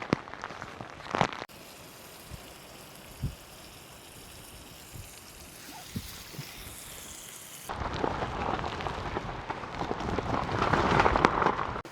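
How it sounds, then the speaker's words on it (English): Rain pattering on a tarp shelter during a stormy night of camping, a steady wash of drops that swells louder and denser in the final seconds, with a few sharper drips standing out near the start. "it sounds like we've got some nice gentle rain to fall asleep to"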